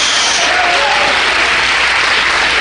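A church congregation claps together in a dense burst of applause during a Holy Week service, loud, close and sustained without pause.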